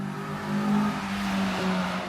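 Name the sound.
car driving fast through neighborhood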